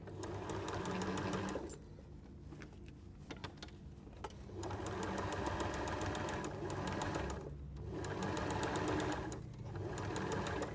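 A sewing machine stitching around the fabric of a peg bag, running in steady whirring bursts with brief stops between them, close and alone.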